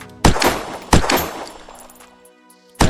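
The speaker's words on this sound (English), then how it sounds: "A scope sniper rifle, and here's how it shoots." Full-auto scoped sniper rifle fired in the video game Unturned: three loud, sharp shot bursts spaced about a second apart, each with a ringing tail, the last cut short at the end.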